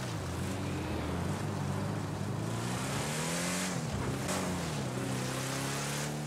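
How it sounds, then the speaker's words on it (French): A new off-road car's engine revs steadily with a droning, rising and falling pitch, heard up close and continuous with some wind or road noise and no talking. "Écoutez, j'espère que vous entendez le moteur."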